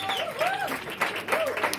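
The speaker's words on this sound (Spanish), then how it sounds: "Aplauso para ese hombre antes de que lo vean tocar por dos años salvajes." An audience at a live show in Madrid applauds a pianist in a short, close burst of clapping, mixed with whistle-like cheers and voices.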